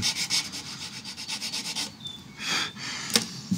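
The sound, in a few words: needle file enlarging a guitar nut slot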